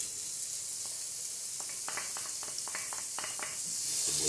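Onion goes into hot fat in a pan for a pork rib and cassava stew, producing a bright, steady sizzle with scattered crackles and stirring scrapes that swells toward the end.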